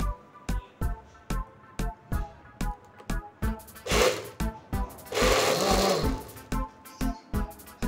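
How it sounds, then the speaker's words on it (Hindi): A kitchen blender pulses in short, regular bursts while blending pomegranate juice with cold water, then runs for a couple of longer whirring stretches. The motor sounds loud and close, with no speech. "अब हम इसको ब्लेंड करके जूस बना लेंगे अच्छी तरह।"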